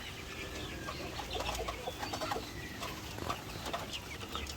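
Young white leghorn and leghorn-cross chicks in a brooder give a continuous close chorus of high peeping and chirps, overlapping busily, with no talking.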